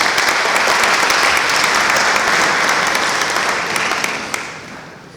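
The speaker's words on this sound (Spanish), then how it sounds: "Lo recibimos con fuertes palmas." An audience at a Peruvian civic ceremony gives the mayor of Pueblo Libre a loud, dense round of applause that holds steady, then thins and fades toward the end.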